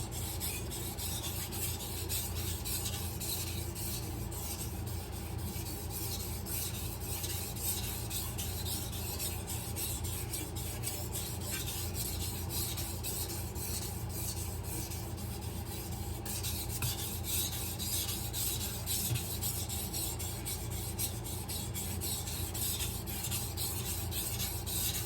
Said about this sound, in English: This knife right here is a little bit more difficult to sharpen because it's a real hard stainless steel.